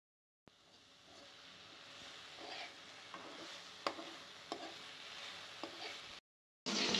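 Greens cook in a pan with onion, green chili and salt, giving a steady hissing sizzle with occasional stirring clicks and scrapes, close and moderately loud, then cut off abruptly before another brief burst.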